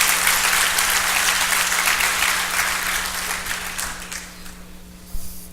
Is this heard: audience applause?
yes